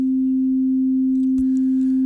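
A T(W)LV additive oscillator module sounding only its fundamental: a pure, steady sine tone held loud and unchanging, with a faint click partway through.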